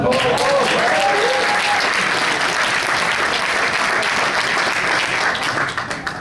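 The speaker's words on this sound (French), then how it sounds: "Il est temps que vous m'applaudissiez que je prenne une gorgée d'eau." An audience at a business presentation breaks into loud, sustained applause that fills the room for about six seconds before tapering off, with a few voices briefly audible at the start.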